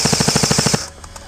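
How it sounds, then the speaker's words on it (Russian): A G&G CM16 airsoft light machine gun fires one short, rapid burst of about ten sharp cracks, loud and close, before the sound cuts to near silence with faint clicks. "пулемет спокойно закидывает шарики на дистанцию более 55 метров со скорострельностью 800 выстрелов в минуту"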